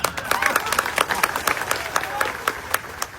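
Enthusiastic applause from a large crowd, dense rapid clapping filling the whole stretch with sharper individual claps popping out, some voices faintly mixed in.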